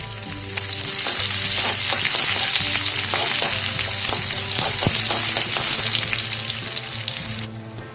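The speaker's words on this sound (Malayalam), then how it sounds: "ഇനി നമുക്കിതിലേക്ക് അരിഞ്ഞു വെച്ചിരിക്കുന്ന ചെറിയ ഉള്ളി ഇട്ട് ഈ നെയ്യിൽ നിന്ന് മൂപ്പിച്ചെടുക്കാം" Chopped small onions fry in hot ghee for spiced rice, a loud, steady crackling sizzle with scattered pops and spatters throughout, cutting off abruptly near the end.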